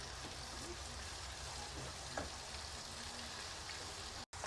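Tomato paste and capsicum sizzle in a pan with a soft, continuous crackling hiss that stays steady throughout and cuts out for a moment near the end.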